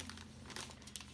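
Gift wrapping paper being folded down, giving a soft, close crinkle with a couple of brief crisp rustles over about a second.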